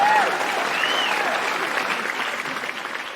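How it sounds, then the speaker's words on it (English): An audience claps at a comedy show in a dense, steady burst of applause that slowly thins out, with a faint voice briefly over the top. "that deserves a round of applause"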